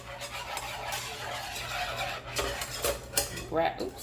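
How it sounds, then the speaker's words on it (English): A whisk repeatedly scraping and clinking in a pan while working lumps out of a flour mixture, uneven metallic strokes over a soft background hiss. "Keep moving it around and whisk it so that you get all these lumps out of here."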